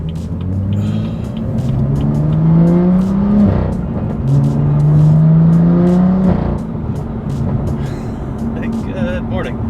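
A BMW M2 engine with its exhaust valves open, heard up close and loud, rumbles at idle and then swells through two rising revs before settling back, with a few sharp exhaust crackles.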